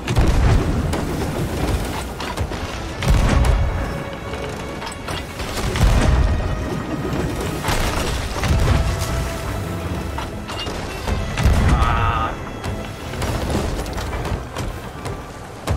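Cannon fire on a ship in a naval video game, repeated deep booms every few seconds over constant creaking mechanical and gear-like clatter, loud and close.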